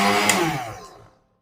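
Kitchen blender whirring through chili and tomato for sambal, a loud motor whine that steadily winds down and stops after about a second.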